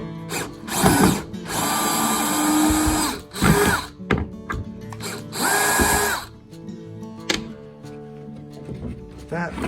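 A power drill backs screws out of plywood in several loud, close, whining bursts of a few seconds each, with quieter handling noise and someone talking in the gaps.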